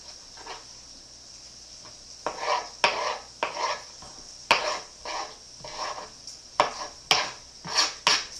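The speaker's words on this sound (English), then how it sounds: "we're actually going to chop up the tomato into smaller pieces" A knife chops a tomato into smaller pieces while making cornbread chicken: about eight sharp, irregular cuts sound close and moderately loud, with no talking.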